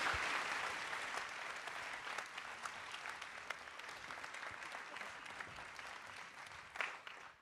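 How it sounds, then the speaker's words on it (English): Audience applause at a conference on Switzerland and US relations, steady clapping from a seated crowd that holds level and then slowly fades. "You can give a round of applause for all of them."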